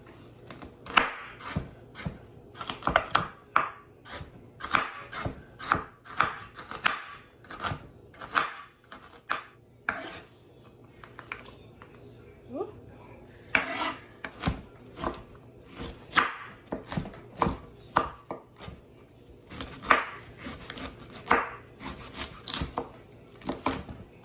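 Raw carrots, three at a time, are chopped on a board with sharp, rhythmic knife strikes in quick bursts, pausing briefly midway before the steady chopping resumes, close and clear.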